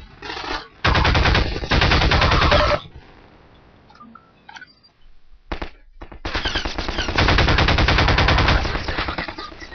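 Heavy automatic gunfire in Half-Life 2, loud sustained machine-gun bursts in two long stretches separated by a quieter gap with scattered smaller noises.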